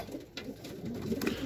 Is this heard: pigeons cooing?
yes